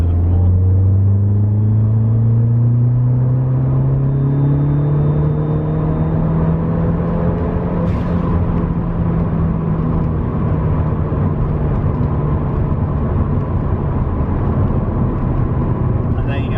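A Ford Fiesta ST180 engine roars under full throttle from 40 mph at 2,000 rpm, its pitch steadily climbing as it accelerates, loud and close throughout.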